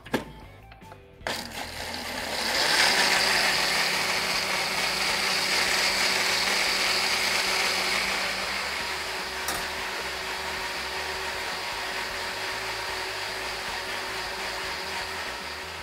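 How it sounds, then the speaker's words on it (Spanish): A kitchen blender whirs steadily while liquefying coconut pieces with water, a loud continuous grinding whine that starts after a brief clatter and holds to the end, with no talk. "Y aquí vamos a licuar."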